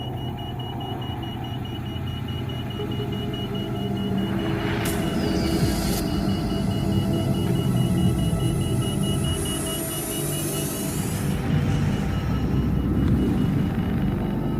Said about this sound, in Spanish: Suena la alarma de agua en la esfera.